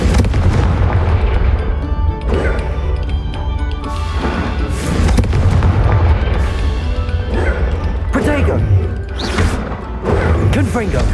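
Confringo blasting spell explosions in Hogwarts Legacy come as repeated booming blasts and crashes every second or two, loud and dense over a steady backdrop of game sound and voices.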